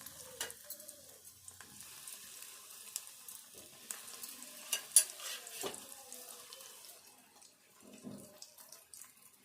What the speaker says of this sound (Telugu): ఈ పీసులు కూడా సేమ్ అట్లే వేపుకోవాలి.